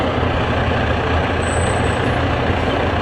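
A fire department truck rolls past in a parade during steady rain, a loud continuous engine rumble and road wash with a short air-brake hiss in the middle.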